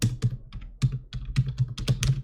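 Rapid, close typing on a computer keyboard, a quick run of light clicking keystrokes with small uneven pauses, heard alone.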